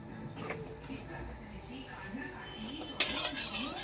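A utensil lightly mixes rice bran oil with another mixture in a bowl while preparing homemade fish bait, giving soft scrapes and light clinks that turn louder and brighter near the end.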